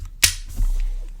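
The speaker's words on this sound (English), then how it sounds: "Really nice feel and audible on the spool release." A single sharp click from the spool release of a Flight Feather Cormoran BFS fishing reel, close and crisp, followed by a soft low rumble of handling.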